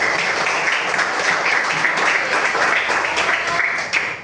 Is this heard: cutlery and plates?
no